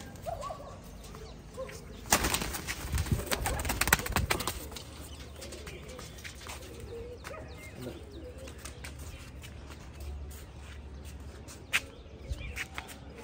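Pigeons coo softly and flap their wings in a loft, with a loud burst of fluttering wings around the second and fourth seconds, then quieter cooing and occasional light rustles.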